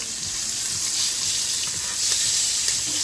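Steady, close sizzling of chicken frying in hot oil for chicken piccata, a continuous crackling hiss with no voices.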